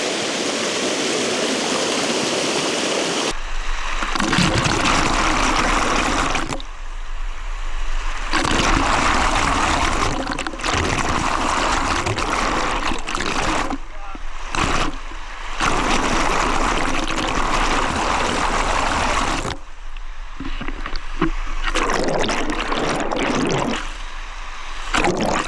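Whitewater rapids on a river rush in a loud, continuous roar, broken by abrupt cutouts and muffled stretches as a camera on an extended pole dips in and out of the water.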